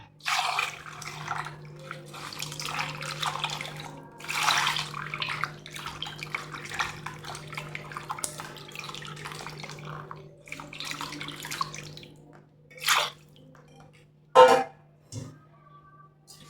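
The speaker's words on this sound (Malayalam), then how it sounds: "നമുക്കിതിലേക്ക് വെള്ളം ഒഴിച്ചു കൊടുക്കാം" Water is poured over small sardines in a bowl for washing: a long, steady splashing pour, then a few sharper bursts and splashes near the end.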